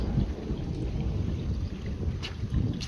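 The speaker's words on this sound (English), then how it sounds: "Its wind still keeps coming." Strong gusty wind in a garden with a koi pond after a thunderstorm, heard as loud, rumbling buffeting against the microphone, with a brief rustle near the end.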